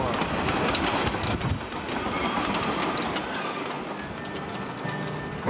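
A train pulls out along the line on the last run out of St. John's, a steady close rumble of rolling wheels with rhythmic clickety-clack and faint metallic squeals throughout, no voices.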